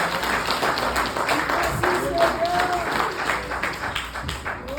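A church congregation applauds together, a dense, steady wash of many hands clapping that continues for about five seconds at an even, fairly loud level, with faint voices mixed in.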